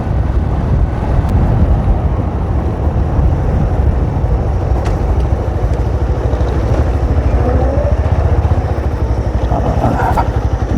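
A motorcycle engine rumbles steadily and loudly throughout while riding, with constant road and wind noise and no pauses.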